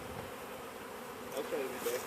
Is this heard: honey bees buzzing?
yes